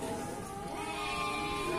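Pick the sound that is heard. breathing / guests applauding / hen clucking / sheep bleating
sheep bleating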